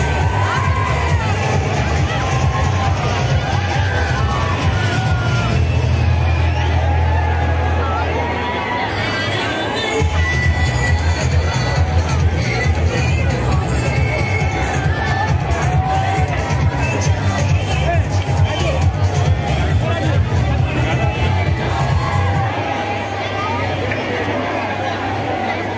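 A dense crowd fills a busy fair near Delhi's Red Fort with a loud, continuous hubbub of chatter, children's shouts and occasional cheers, while a low droning hum runs underneath.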